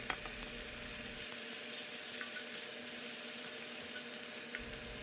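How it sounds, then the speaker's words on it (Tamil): Finely chopped tomatoes going into a hot frying pan make a steady sizzle with a faint hiss and a few small clicks, with no one speaking. "அந்த தக்காளியை ஆட் பண்ணுறோம்."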